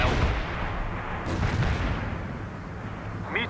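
Medium artillery fire in the strategy game World in Conflict, a heavy boom up front followed by rumbling blasts that trail off, with a sharp crack near the end.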